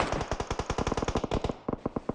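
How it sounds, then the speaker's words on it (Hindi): Rapid automatic gunfire in the 2018 version of PUBG Mobile, in sustained bursts, loud and close, with a brief pause before a few final shots. "गोलियां चल रही हैं इधर से उधर से।"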